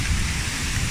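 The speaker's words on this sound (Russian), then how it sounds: "Град, падает град, большой-большой, о боже." Large hailstones pound down during a storm in a sudden hailstorm, a dense, loud, continuous battering roar with heavy low rumbling, close and unbroken.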